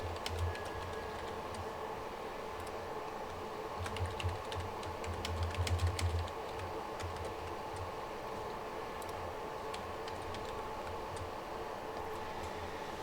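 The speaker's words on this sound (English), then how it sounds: "pardon my typing" Steady clicking on a computer keyboard, with rapid close keystrokes in irregular bursts over a low constant hum, no voices.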